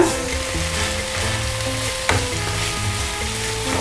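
Thick peppered gravy sizzles and bubbles in a pan, with a continuous loud frying hiss and a stirring scrape, heard close with no voices.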